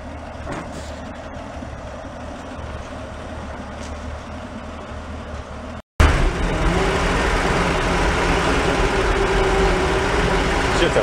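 A rough 1965 Ford Econoline's engine runs steadily with its engine compartment open, a low idling rumble that cuts out briefly and returns louder and closer, with no speech over it.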